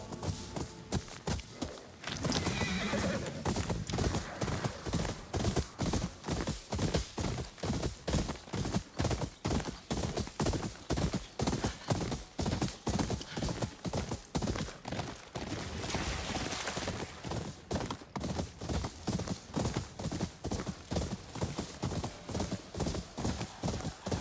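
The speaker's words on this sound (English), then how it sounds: "There's horses." Horses in the video game Ghost of Yotei gallop with rapid, continuous clip-clopping hoofbeats lasting over twenty seconds, with occasional neighs mixed in, loud and close.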